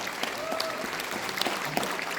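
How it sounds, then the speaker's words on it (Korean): Audience applause at a seminar event in Korea, a steady wash of clapping filling the room for a couple of seconds with a few sharper claps standing out. "큰 박수 부탁드리겠습니다."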